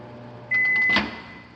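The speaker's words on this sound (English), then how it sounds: "I ran the microwave." A microwave oven hums steadily for about half a second with a faint electronic whine, then stops abruptly amid quiet room noise.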